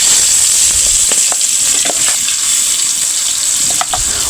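Fish frying in a pan in a village home kitchen, a steady close hissing sizzle with scattered small pops and crackles, continuous for about four seconds with no talking.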